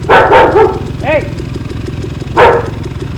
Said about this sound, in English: my dog will be barking